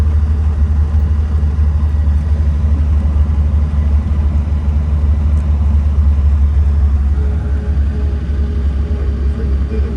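A 1948 Lincoln Continental driving without working brakes, its engine a loud, steady low rumble throughout, close and continuous with no clear speech.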